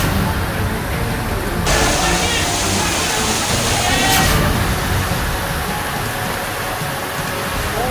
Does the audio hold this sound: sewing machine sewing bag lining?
no